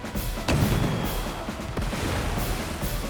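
Battleships attacking in Advance Wars unleash a rapid volley of explosive bursts, sharp cracks and rumbling blasts packed into a few seconds, loud and up front.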